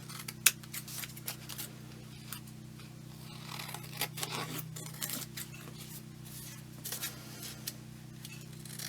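Scissors trim around a pocket on a handmade junk journal, with faint, close snipping and paper rustles over a constant low hum.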